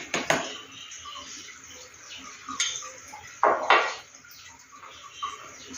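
A spoon scrapes and clinks against a bowl while scooping whole yogurt for a pet cake, several sharp clacks standing out over quiet kitchen background.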